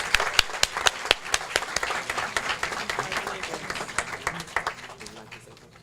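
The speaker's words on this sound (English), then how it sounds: "let's give a round of applause for Mr." Audience applause honoring a graduate at a remarkable-graduates ceremony, a burst of many hands clapping that is dense and steady before thinning and fading out near the end.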